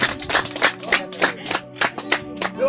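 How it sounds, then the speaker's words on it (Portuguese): Hands clap in a church service, a few distinct slaps in an uneven rhythm, close and fairly loud, with organ or keyboard tones sustaining underneath. "Pode dar uma salva de palmas, por favor?"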